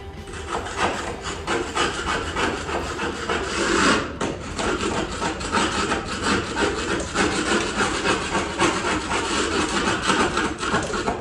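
A scraper grates rhythmically against wood, rough rasping strokes repeating steadily at close range, with a brief louder scrape partway through.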